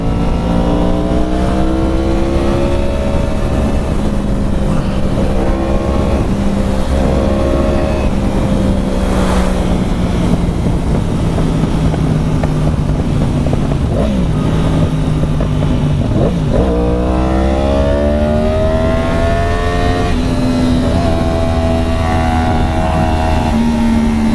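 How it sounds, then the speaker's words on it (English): A Stingray convertible and an orange Mustang race, engines roaring loud and close with rising and falling pitch as they accelerate and shift, continuous throughout. "We got a Stingray convertible and a orange Mustang"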